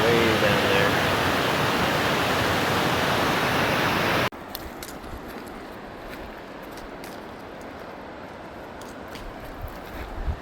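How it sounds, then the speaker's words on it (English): A waterfall on the descent from Muir Pass on the John Muir Trail roars as a loud, steady rush for about four seconds, then cuts abruptly to a much quieter background hiss. "Saw the waterfall, so I decided to put my phone out real quick."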